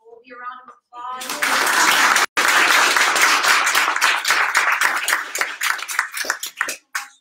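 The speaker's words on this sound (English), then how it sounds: "We can give Colby a round of applause." Church service congregation giving a round of applause, a loud close burst of many hands clapping that starts after a brief voice, holds steady, then thins into scattered claps near the end.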